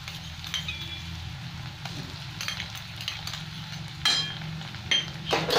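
Onions and ginger paste sizzle steadily in a frying pan, with a continuous low frying hiss and occasional sharp clinks of a utensil against the pan.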